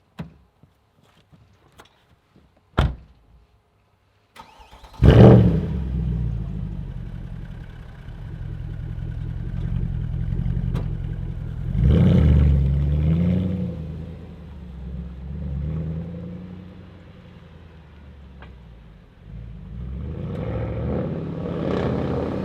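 A Mercedes-AMG C63 Black Series drives off after a quiet start with a few clicks, its engine rumbling deep and steady, swelling in revs twice as it accelerates.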